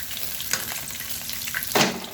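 Seasoned chicken coated in cornstarch, flour and pepper frying in a pan, a steady close sizzle with a few brighter crackling spurts and a louder spatter near the end.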